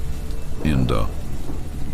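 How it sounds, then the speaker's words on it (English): Rain splashes and wind blows in through an open attic door, a steady hiss of rainfall with low rumbling, while a voice briefly speaks over it midway. "Rain splashes in, and cold wind extinguishes the bulb, casting you into darkness."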